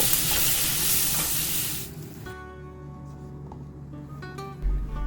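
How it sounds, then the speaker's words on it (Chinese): A chicken breast pan-fries over medium-high heat, starting with a loud, bright sizzle that settles into a quieter crackle with a steady hum behind it, then a short thump near the end. "煎到金黄色的时候，把它翻过来煎另一边，"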